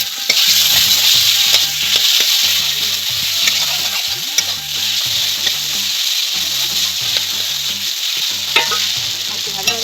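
Taro greens with green chillies fry in a pan, sizzling steadily and loudly while a utensil stirs and scrapes in rhythmic strokes throughout.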